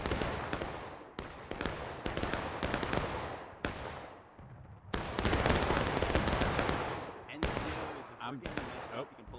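Dense, continuous gunfire in a War of Rights video game battle on the Garland's Stand map: rolling musket volleys and crackling shots pile up over each other, loud and sustained, with short gaps between waves.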